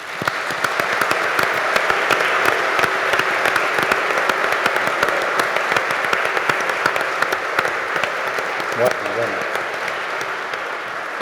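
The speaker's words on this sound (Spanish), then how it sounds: "quiero que le brindemos un gran aplauso a todos los organizadores de esta maravillosa actividad" A large audience at a science congress applauding organizers, a loud sustained wash of many hands clapping for about eleven seconds, with a brief spoken word near the end.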